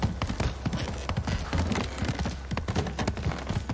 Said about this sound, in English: That's a samurai horse, isn't it?